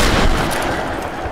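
Gunfire from a weapon in the video game Tomb Raider Definitive Edition, a loud burst of shots with a booming low end and rattling tail, close and dominant with no talk over it.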